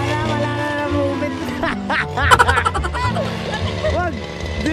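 Duck quacking in a busy outdoor scene, a few harsh quacks rising over steady background tones and vehicle noise, with people talking nearby.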